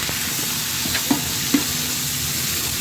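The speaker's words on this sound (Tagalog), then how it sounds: "Stir it well until the meat turns golden brown." Meat for kimchi soup frying in a pot, a steady loud sizzle broken by two sharp knocks of a utensil against the pot as it is stirred.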